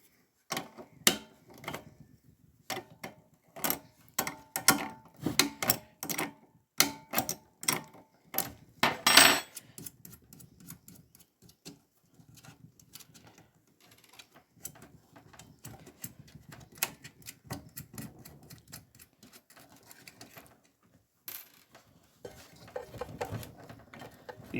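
Metallic clicks and clanks from a 9/16 wrench loosening motor switches on a K9 III dryer, a busy irregular run of close taps and ratchet-like knocks with brief pauses.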